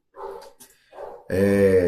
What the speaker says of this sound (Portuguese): Tem um cachorro latindo, provavelmente isso vai sair no áudio aqui